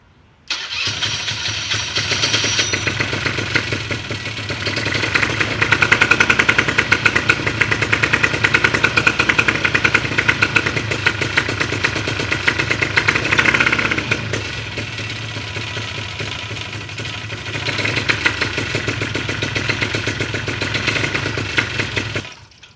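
A paramotor engine is started and runs at idle, a steady buzzing two-stroke putter with rapid regular firing pulses, loud and close, rising slightly midway, then dropping back before cutting off, with no talking.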